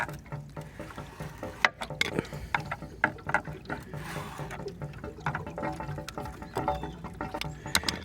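A screwdriver works the drain plug loose on a Hayward SwimClear pool cartridge filter, giving irregular close-up plastic clicks, scrapes and ratcheting creaks over a quiet background.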